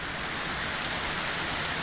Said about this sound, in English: But you can hear that rain falling.